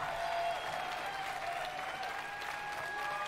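Crowd applauding at a game-reveal event: steady, dense clapping and faint cheering that holds at an even level throughout, sounding somewhat distant and washy.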